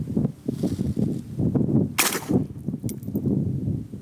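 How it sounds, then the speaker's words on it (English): Charging handle of an AK rifle with a 10.5-inch barrel racked close by: one sharp metallic clack, then a softer click, over a low background rumble. "something about an AK charging just sounds so good"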